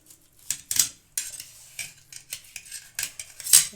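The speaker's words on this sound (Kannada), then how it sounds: "ಇವಾಗ ಕಟ್ ಮಾಡೋಣ. ನಾವು ಯಾವ ಶೇಪಿಗೆ ಬೇಕೋ ಆ ಶೇಪಿಗೆ ಕಟ್ ಮಾಡೋಣ." Masala egg omelette with fried potato and onion being cut into pieces in the pan, a series of sharp metal-on-pan scrapes and clinks in uneven bursts, close and fairly loud with quiet gaps between.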